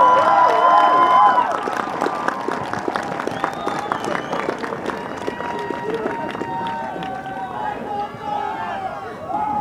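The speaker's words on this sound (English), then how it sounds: "So, give them a round of applause." Graduation audience at the 2016 Troy High School ceremony breaks into steady applause and cheering, a dense crowd roar that holds for about ten seconds with some tonal voices mixed in.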